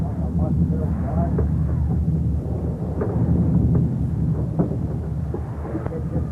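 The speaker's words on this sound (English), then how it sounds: "if this storm don't stop pretty soon, I'm going to do something about it" A thunderstorm at sea rumbles and roars as a steady, heavy wash of low noise, with voices talking over it throughout.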